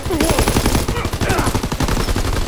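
Rapid gunfire in the Call of Duty WWII Gridiron mode, dense overlapping automatic bursts and shots crackling continuously through the short stretch with game sounds mixed in.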